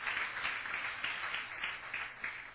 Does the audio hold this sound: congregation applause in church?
yes